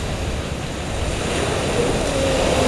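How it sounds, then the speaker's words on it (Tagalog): Sea waves along the coast of Occidental Mindoro roll in as a steady, full roar of surf, heard close and alone with gusty wind noise across the microphone. "Ito yung dagat ng Occidental Mindoro."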